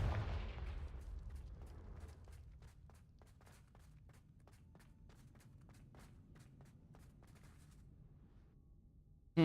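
A Confringo fire spell bursts in Hogwarts Legacy, a heavy rumbling blast that decays over a couple of seconds, followed by a run of crisp, evenly spaced footsteps.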